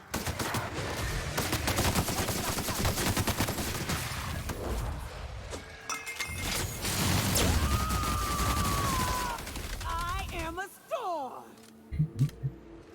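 Gunfire in the video game The Outer Worlds: dense, rapid bursts of shots crackle over the game's ambience, followed by quieter in-game sounds and a few electronic tones.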